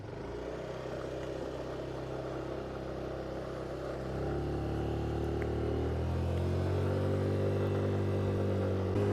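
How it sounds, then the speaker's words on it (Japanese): A Yamaha NMAX 125 ABS scooter at an idling stop restarts, its engine settling into a steady hum that rises slightly as it pulls away and turns, close and continuous. "アイドリングストップで再始動してから U ターンしたいと思います。"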